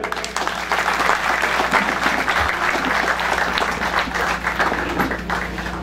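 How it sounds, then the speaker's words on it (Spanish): A crowd applauds Pablo Emilio at a centennial ceremony for the Miracle of the Divina Pastora in Agustín Codazzi, with continuous, fairly loud clapping and a steady low hum underneath. "Un aplauso para él."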